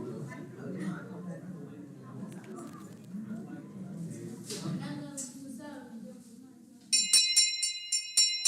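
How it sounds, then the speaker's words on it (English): Bright, ringing bell strikes burst in near the end, loud and repeated, following a stretch of low murmuring crowd noise. "The sound of a bell excites children"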